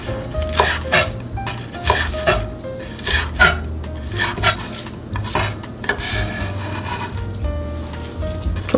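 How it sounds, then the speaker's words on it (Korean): A knife chops seomcho spinach and green onions into roughly 3 cm pieces on a board: irregular, crisp cuts and scrapes, close and moderately loud, with a faint low hum underneath and no talk. "해서 먹기 좋게 한 3cm 정도로 자를게요."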